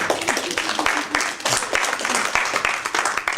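Student government meeting members clapping, a lively irregular round of hands in a room, with loud spikes and a few voices mixed in.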